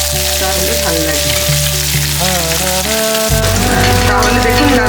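Fish frying in hot oil with whole garam masala for a Bengali doi maach, a steady loud sizzle throughout with a strong low hum running beneath it.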